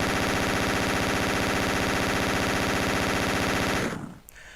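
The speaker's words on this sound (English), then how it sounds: "this cacophony of bullets" Relentless rapid gunfire from Doom on the Game Boy Advance hammers out as a dense, loud, continuous burst for about four seconds, then cuts off abruptly.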